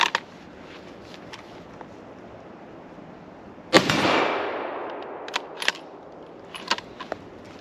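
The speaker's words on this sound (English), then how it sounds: "I got two shots left in the Mauser." A single loud Mauser 98K rifle shot fired outdoors toward a plate about 200 yards away, a sharp crack followed by a long rolling echo, with faint clicks and handling noises around it.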